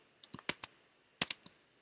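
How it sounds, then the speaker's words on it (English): Keys on a computer keyboard tapped in two short quiet bursts of about four strokes each, separated by a brief pause, heard up close with no talking. "And we're going to type in"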